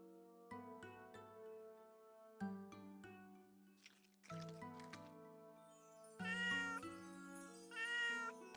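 Cat meowing in the cozy video game Little Witch in the Woods, several clear mews set against soft melodic game music, close and gentle with short pauses between calls.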